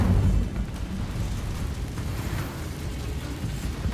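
A fiery blast from the Incendio fire spell in Hogwarts Legacy, a loud burst at the start settling into a sustained rumbling roar that carries on steadily for several seconds with no voices.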